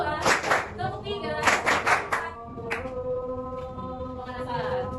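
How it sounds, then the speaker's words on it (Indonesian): A classroom of students claps together on a teacher's count, sharp bursts of group clapping in quick clusters, fairly close, followed by sparser claps and a voice speaking. "tepuk 1, tepuk 2, tepuk 3,"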